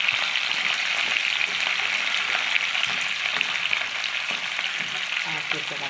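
Onions sizzle steadily in hot oil in a wok, a dense, even crackle that stays close and loud throughout with no voices.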